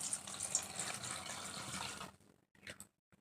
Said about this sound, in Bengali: এখন আমি ভালো জল দিয়ে ধুয়ে নিচ্ছি।